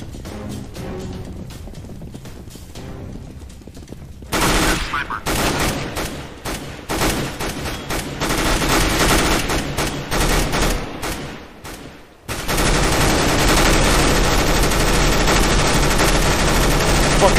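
Rapid gunfire in the shooter Counter-Strike: Global Offensive, loud bursts and sustained volleys of shots that stop and start, then a dense continuous stretch of firing near the end.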